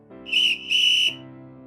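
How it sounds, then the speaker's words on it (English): An ear-splitting whistle sounds in two shrill, sustained blasts over a steady low tone, piercing and loud. "an ear-splitting whistle raked across his senses"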